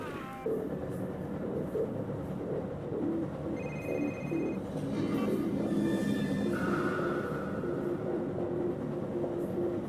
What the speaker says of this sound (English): We gotta catch that train.